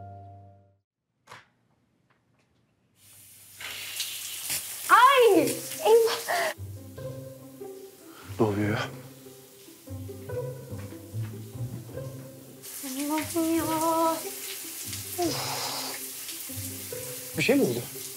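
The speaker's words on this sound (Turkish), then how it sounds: "Bu duşun başlığı biraz su kaçırıyor da" Water hisses from a leaking shower head in two long spraying stretches, fairly close, with people talking over and between them.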